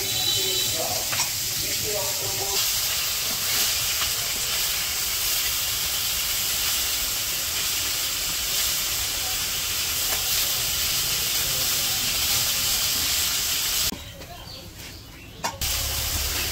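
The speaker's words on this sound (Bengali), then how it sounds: "আর এদিকে মা আবার মাছ ভাজতেছে।" Fish, likely big rohu pieces, frying in a wok in a village home kitchen, giving a loud, steady hiss that runs almost unbroken before briefly dropping away near the end.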